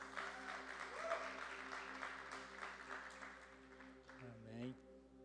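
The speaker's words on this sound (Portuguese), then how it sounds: "eu quero que vocês aplaudam Jesus" Church congregation applauding during an evening service, steady broadband clapping filling the room with a voice speaking over it and organ or keyboard tones sustained underneath.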